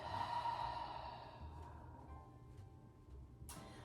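During a quiet restorative yoga session, a person lets out a single soft, deep exhale that fades into near silence, followed by a faint rustle near the end.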